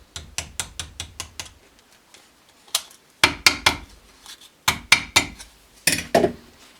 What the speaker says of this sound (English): gonna use a small hammer and just smooth out the edges like that